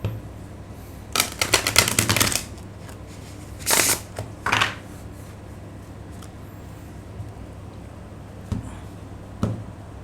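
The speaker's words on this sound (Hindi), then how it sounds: "एक और कर लेता हूँ शफल।" Tarot cards being shuffled in quick riffling bursts, with a dense flurry early on, two shorter bursts mid-clip and a couple of faint flicks near the end, close and clear with no talking.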